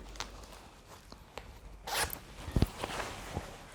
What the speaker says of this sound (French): Il y a une fermeture éclair sur le côté.